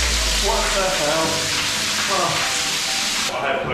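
Steady hissing spray of a shower in the Rainforest Room aboard the Disney Dream cruise ship, loud and continuous, with a person's voice faintly under it.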